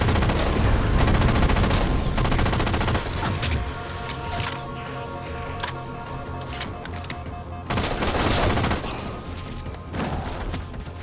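Halo 4 campaign gunfire, with loud sustained automatic bursts and heavy impacts that ease into quieter scattered shots and then swell again.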